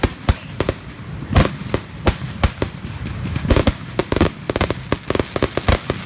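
Loud fireworks burst close by in rapid, irregular succession, sharp cracks and booms piling on top of each other with brief gaps, no voices over them.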